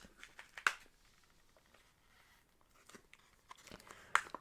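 A juice package is crinkled and tugged at, with two sharp tearing rips separated by quieter rustling and handling noises.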